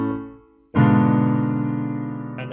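A deceptive cadence played on a keyboard instrument: one sustained chord fades, then after a short gap a second full chord strikes and rings on, clear and close with no talking.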